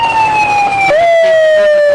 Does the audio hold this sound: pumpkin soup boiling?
no